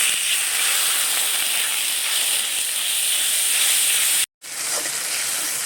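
Spice paste of green chili, chili powder, cumin and pepper powder fries in a pan with a splash of water, giving a steady loud hiss that cuts out for a split second near the end, with no talk.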